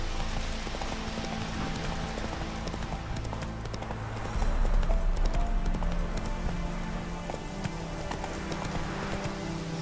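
Roach, a horse in The Witcher 3, gallops with steady rhythmic hoofbeats that run for nearly ten seconds and grow slightly louder partway through, over faint game ambience.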